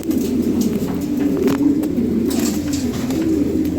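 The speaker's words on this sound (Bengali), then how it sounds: "এই যে কবুতর দিয়ে দিতেছি" Fancy pigeons coo in a low, continuous murmur close by, with faint rustling and a little background noise mixed in.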